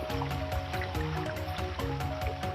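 Water runs through bamboo piping that carries drinking water from a small stream at a heritage centre. It flows and splashes close by with a lively, gurgling, uneven rhythm.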